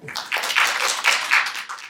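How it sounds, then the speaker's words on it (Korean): Audience applause welcoming the first speaker at a seminar, a short burst of scattered hand claps from a small crowd at moderate volume, with no talking. "박수를 받아주시기 바랍니다."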